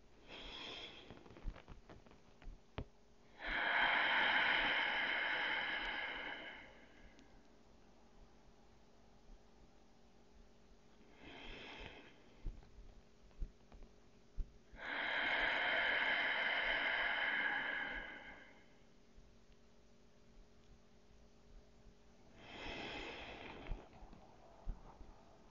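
Deep, slow breaths during a morning yoga flow: two long, airy inhale-exhale passages a few seconds each, separated by quiet pauses and softer breaths, close and fairly faint.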